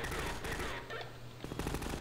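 Automatic gunfire in the video game Half-Life 2, rapid loud bursts of machine-gun fire with a brief gap mid-clip before another burst.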